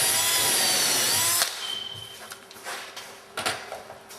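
A power drill drilling down into wood while installing cabinets whines loudly and steadily for about a second and a half, then stops; afterwards a few clicks and light knocks sound close by.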